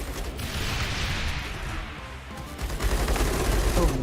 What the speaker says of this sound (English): Mortar.